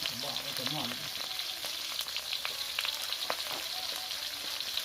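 Onions and tomato fry in a pan at an outdoor hunting spot, being stirred while noodles are cooked on location: a steady, close sizzle with scattered light scrapes and clicks of the stirring utensil.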